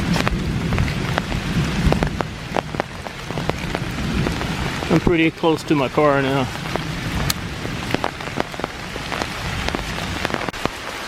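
Heavy rain pours down on a wooded park trail during a thunderstorm, a dense constant hiss with a brief rumble of thunder partway through, while someone talks close by over it.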